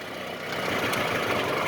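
A three-cylinder car engine idles roughly and low, close by, as if about to stall, with a faint irregular rumble and no talk.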